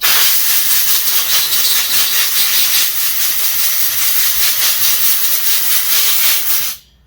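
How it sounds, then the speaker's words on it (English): Compressed air gun blasting carbon out of a Homelite chainsaw muffler: a loud, steady hiss of rushing air held for nearly seven seconds, then cutting off abruptly. "And then we'll just hit it with the air gun."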